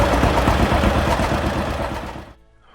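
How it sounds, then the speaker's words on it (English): A John Deere Model A two-cylinder tractor engine runs with a loud, close, rapid chugging pulse before cutting away abruptly. "The John Deere Model A had a powerful two-cylinder engine that produced the iconic Johnny Popper's sound"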